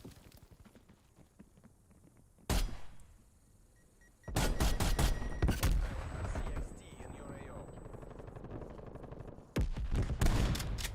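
Video game gunfire in a first-person shooter: sharp bursts and heavy volleys of shots, with a loud cluster around the middle and another near the end, over quieter stretches with a voice talking.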